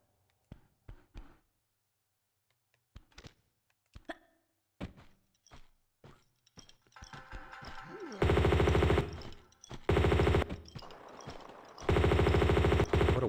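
Weapon fire in Tomb Raider II, scattered single thumping shots with gaps between them, then long loud sustained bursts of rapid fire that stop and restart several times.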